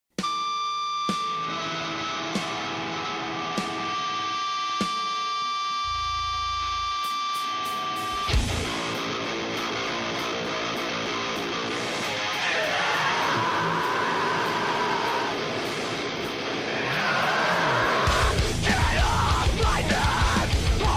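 A song: a sparse electronic, beeping intro with a brief low hit, then dense distorted heavy metal with harsh screamed vocals.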